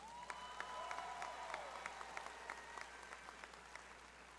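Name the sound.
applause for graduates at ASU commencement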